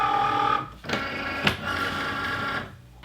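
A Cricut cutting machine loading a mat with shiny gold vinyl, a close mechanical whirring hum broken by a couple of sharp clicks and a brief motor pause.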